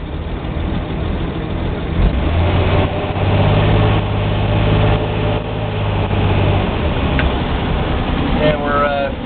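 A generator engine runs steadily while charging, its RPM raised slightly; a loud, continuous low mechanical drone fills the whole stretch.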